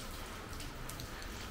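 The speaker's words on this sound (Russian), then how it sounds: "дождик идет" Light rain falls at a building site for a flat-roofed house built from polystyrene concrete blocks, giving a soft, even, continuous hiss with no distinct drops or other sounds.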